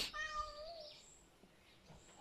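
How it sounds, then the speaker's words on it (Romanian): A cat meows outdoors in one drawn-out, faint call lasting about a second, followed by quiet background with a few soft distant sounds. "Miau, uite vine alt miau."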